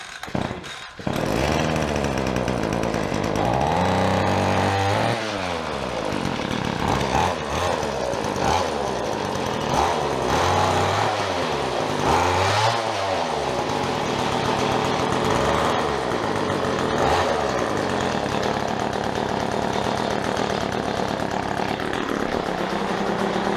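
A small petrol string trimmer engine starts up and runs loudly up close, revving up and down repeatedly in rising and falling surges.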